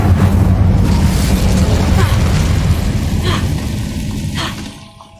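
A fire spell explosion, Incendio, cast in the video game Hogwarts Legacy: a loud, rumbling burst of flame that roars briefly, then fades out over a few seconds.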